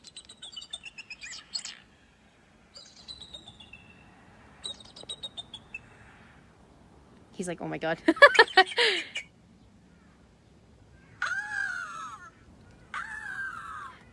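A recording of an eagle plays, giving thin, high-pitched squealy calls in short chittering bursts separated by pauses, with a louder bursting cluster in the middle and a voice briefly speaking quietly over it.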